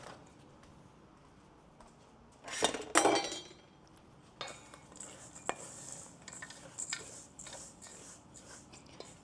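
Chopped bread ingredients mixed together in a bowl in a quiet home kitchen, giving a short burst of stirring and clinking near the start, then scattered light scrapes and taps, with no talking.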